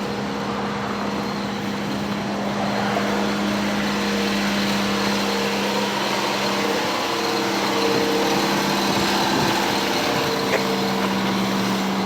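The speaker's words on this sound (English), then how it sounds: "Starting to idle down now." A 43,000-mile all-original Cadillac Cimarron engine hums steadily at a warm, high idle and begins to settle down, close and loud throughout.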